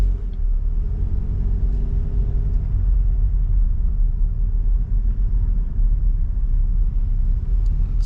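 Car driving on a road during a driving test, heard from inside as a steady, close low engine rumble and road noise with no talking.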